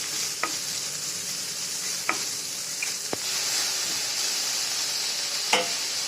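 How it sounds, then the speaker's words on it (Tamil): Large chopped onions sizzle steadily in hot oil in a pan, with a constant frying hiss broken by occasional sharp scrapes and taps of a stirring utensil. "எண்ணெய் நல்லா ஹீட் ஆனோடனே கட் பண்ணி வச்ச பெரிய வெங்காயத்தை சேர்த்துக்கோங்க. வெங்காயத்தை நல்லா வதக்கிக்கோங்க."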